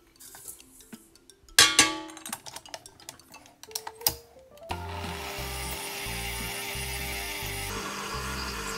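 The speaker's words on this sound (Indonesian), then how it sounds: "sekarang kita kocok" Batter and sugar are beaten for a raspberry lemon pound cake. Knocks and scraping clatter against the bowl come first, then a steady, continuous whirring drone of beating takes over for the rest.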